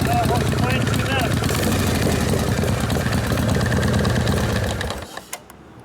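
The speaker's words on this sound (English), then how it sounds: "Clutch rattles over there." An idling 1979 Harley shovelhead 80ci rebuilt motor with an open primary gives a fast, close rattling clatter from the clutch over its chugging idle, until the engine cuts out near the end.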